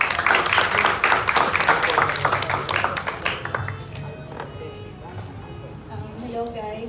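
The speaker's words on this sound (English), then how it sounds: "Let's give her a warm round of applause." An audience at a campus variety show at FEU Institute of Technology claps loudly and briskly, then the applause thins and fades into quieter room noise.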